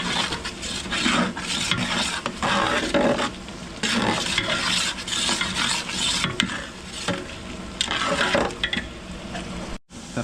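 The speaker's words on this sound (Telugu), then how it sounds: "ఇలా మనం కలుపుతూ ఉండాలి, లేదంటే మాడుతుంది, కింద అడుగుంటుంది." A spoon stirs thick curd masala gravy for allu kurma curry in a cooking pan, making busy scraping and stirring strokes over a soft sizzle. The sound is close and continuous and breaks off briefly near the end.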